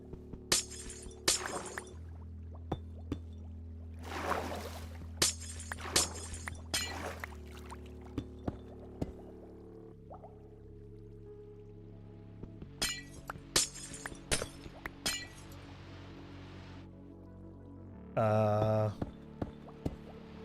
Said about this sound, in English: Did that glass drop?